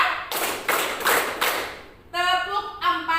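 Students clap in unison in a rhythmic classroom clapping exercise, a few sharp claps close together at the start, followed by chanted voices.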